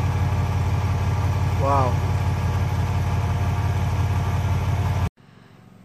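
An old tractor engine idles steadily and loudly up close, with water spitting from the muffler after a home head-gasket repair. A single short exclamation comes over it before the sound cuts off abruptly near the end.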